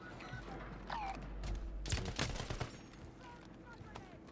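Gunfire in the Call of Duty Warzone battle royale game, a burst of several sharp shots clustered midway through, over steady game ambience with faint background voices.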